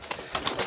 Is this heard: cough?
no